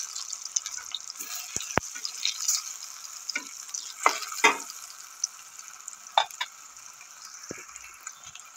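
Food frying in a pan over a low gas flame, with a soft intermittent sizzle and scattered sharp clicks and scrapes of pieces being turned, fairly close and quiet, no voices.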